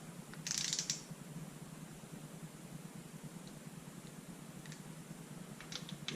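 Rod bolts on a 1968 Mustang 289 V8 get snugged with a ratchet, a brief burst of clicking near the start and a few faint clicks later over a low steady hum, with no one talking.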